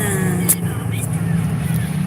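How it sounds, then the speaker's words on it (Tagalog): Steady road traffic hum at a street in Venice Taguig, a continuous low engine drone with a brief brighter swish of a passing vehicle, with faint crowd babble in the background. "Traffic na."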